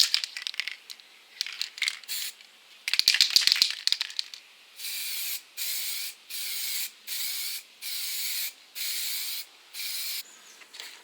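A spray can lays a heavy fourth coat of clear coat over a peeling-clear-coat repair. A few rattles and scrapes come first, then a run of evenly spaced, sharp hissing bursts, close and fairly loud.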